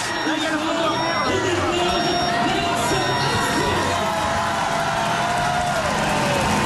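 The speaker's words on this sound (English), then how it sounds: "quite a round of applause as he went down that ramp" A roadside crowd at the Tour de France stage 1 time trial cheers and applauds as Lance Armstrong rolls down the start ramp, a loud, continuous wash of shouts and claps with a commentator talking over it.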